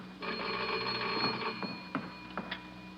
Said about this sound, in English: There's the phone, Miss Fleason.